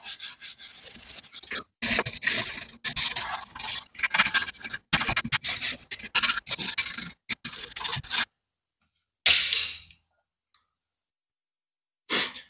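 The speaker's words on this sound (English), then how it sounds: "First thing we want to do is just go over it with a wire brush." Wire brush scrubbing grime off a car brake caliper on a Mini Cooper, with close, rapid raspy scraping strokes in bursts, then a pause, one more short scrub and a faint final touch.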